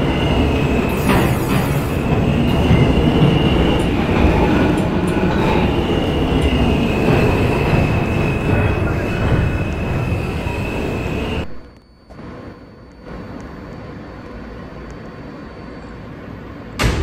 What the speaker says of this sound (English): This is a Church Avenue bound G train.